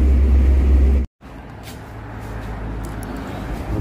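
A car pulling away on a road trip, loud engine rumble inside the cabin, a short break, then steady road and motor noise building as it gets moving.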